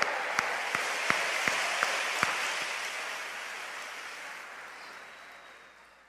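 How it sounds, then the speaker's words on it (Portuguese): Applause from a packed church audience in Natal after a performance, a steady wash of clapping that starts with a few distinct claps, then tapers off and fades away. "Você pode aplaudir mais uma vez."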